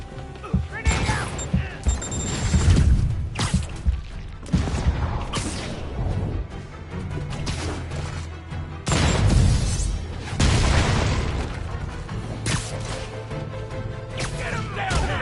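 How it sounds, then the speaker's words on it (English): Booming blasts and crashing impacts from a grenade going off in a Spider-Man video game, loud and dense, mixed with shouting voices and gunfire-like clatter throughout. "Grenade out!"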